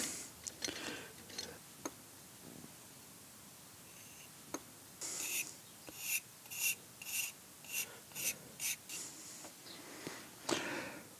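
A pen nib scratches over a lithography stone while drawing, with faint, close, short scraping strokes in irregular bursts and occasional light taps, and no voice.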